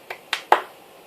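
Three quick hand claps, sharp and close, land in a short accelerating run during a card magic routine, then fade to near silence.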